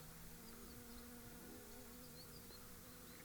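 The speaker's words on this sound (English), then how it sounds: "You may hear in the background right now some kind of bee that's trying to get into the van in the midday heat." A bee buzzes close to a van in the midday heat near Terény, Hungary, a continuous low drone that stays steady and quiet throughout with no talk.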